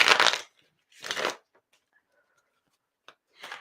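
Tarot cards are shuffled close by in three short, crisp bursts of riffling: two near the start and one at the end, separated by near silence.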